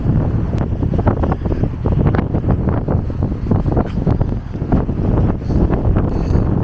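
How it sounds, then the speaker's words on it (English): Strong wind buffets the microphone at a busy waterside fishing spot, a loud continuous roar with gusty rumbling throughout and no speech. "It's fucking so windy"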